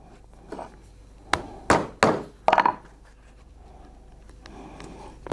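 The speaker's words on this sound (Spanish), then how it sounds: "Bueno, vamos a clavar." Nails being hammered into sandal soles cut from old tyre rubber, heard as a run of sharp, close, loud strikes in quick succession, then quieter handling and faint tapping.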